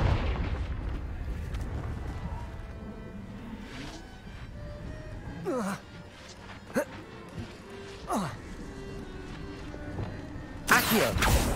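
A Confringo fire spell in Hogwarts Legacy, several sharp whooshing blasts and booms, one near the end louder and broader, standing out over a low game backdrop with occasional speech.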